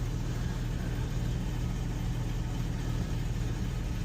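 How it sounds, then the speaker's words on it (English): A 1981 Chevy engine idles steadily close by, a continuous low rumble with an even, uninterrupted throb and no voices. "Let it idle and take it into town."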